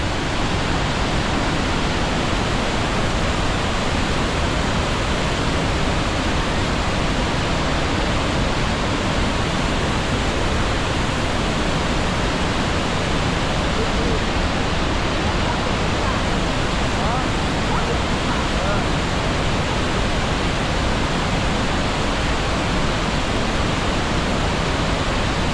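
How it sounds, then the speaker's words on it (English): Devil's Throat waterfall at Iguazu Falls, Argentina, pours with a constant, dense, unbroken roar, loud and close throughout. "form this massive waterfall, otherwise known as the Diablo waterfall."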